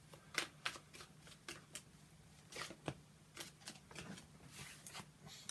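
Tarot cards shuffled by hand in a quiet room: a string of soft, papery riffling bursts and flicks arriving in an irregular rhythm, close and fairly faint, with no voices.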